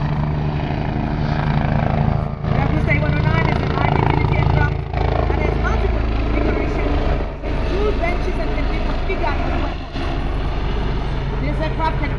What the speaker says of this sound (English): So this is the Agusta performing a battlefield reconnaissance mission.